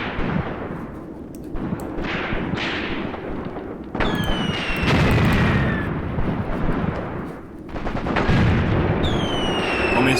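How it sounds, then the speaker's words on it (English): Mortar fire and explosions in the World War II Soviet battle game Graviteam Tactics: Mius Front, with dense crackling bursts and booms rolling continuously and high whistling pings of rounds leaving the tubes. "I still hear the pinging of the mortars there flying out of the actual tubes towards the enemy"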